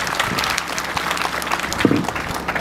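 Graduation audience applause, a steady field of many hands clapping at moderate volume, with a brief tonal murmur partway through.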